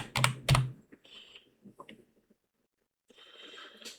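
Typing on a computer keyboard: a quick pair of loud key strikes opens the clip, then sparse scattered taps, a quiet gap, and a softer run of keystrokes near the end.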